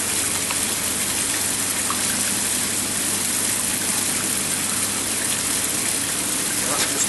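Water gushes steadily from a reef aquarium protein skimmer down into the sump, a continuous close splashing rush with no break.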